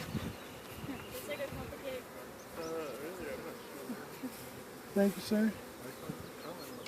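Honey bees buzz in a dense, continuous drone as they are loaded into an MCG hive, the swarm hum steady and close while people talk briefly nearby.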